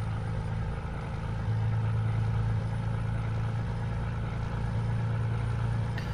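Low, steady diesel drone of an older-shape DAF truck in Euro Truck Simulator 2, hauling a steel-coil trailer, a continuous rumble with faint clattering, no voices.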